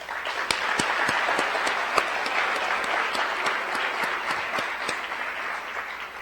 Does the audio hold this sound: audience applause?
yes